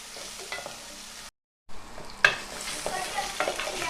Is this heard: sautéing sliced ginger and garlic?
yes